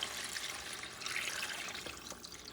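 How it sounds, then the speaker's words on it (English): Water is poured into a cooking pot for Puerto Rican chicken and pork asopao, a quiet, steady splashing stream running on without any talking. "you're going to add your liquid. In my case, it's going to be water."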